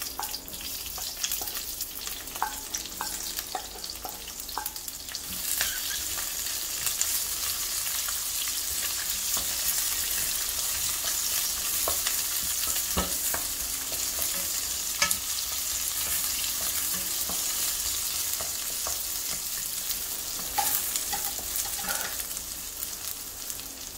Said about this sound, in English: The mustard seeds and the fenugreek seeds have started to splutter.